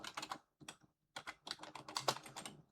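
Fingers typing on a computer keyboard close by, quick bursts of clicking keystrokes separated by short pauses.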